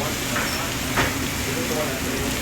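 Garlic and shallots sauté in a pan for mushroom sauce, giving a steady, close, dense sizzle that runs the whole time with no talk over it.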